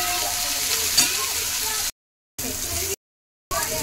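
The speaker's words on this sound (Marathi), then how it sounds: "टोमॅटो टाकला ना तर आपण याला चांगलं फ्राय करायचं आहे।" Tomato and onion frying in a pan, giving a steady, close hiss of sizzling oil in three bursts separated by abrupt silent gaps, with one brief stirring clink near the start.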